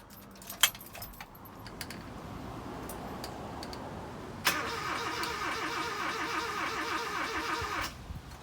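A refurbished engine in a 1986 Ford Courier cranks under compression with no fire. A clink is followed by a steady churning starter whir, then a louder rhythmic cranking that cuts off sharply near the end.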